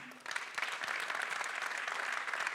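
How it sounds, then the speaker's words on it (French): A show audience applauds a performer, Vini Balthazar, with dense, steady clapping that starts after a brief quieter moment and holds at an even level throughout, with no talk over it. "Est-ce qu'on va applaudir également pour lui?"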